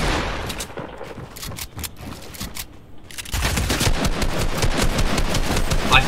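Submachine gun fire in Fortnite, rapid sprays of close, sharp shots, first in short broken bursts and then a denser, louder stretch of continuous automatic firing.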